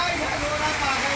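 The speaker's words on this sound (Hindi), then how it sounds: "दोस्तों बारिश बहुत तेज हो रही है" Heavy rain pours down during a strong rural storm as a loud, dense, continuous hiss with no gaps, close to the microphone.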